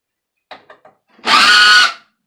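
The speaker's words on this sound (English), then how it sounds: "I'm just tearing out screws and see where we wind up." Power tool pulling screws out of a copy machine being torn apart: a few short, quick taps, then one loud, close whirring burst lasting under a second.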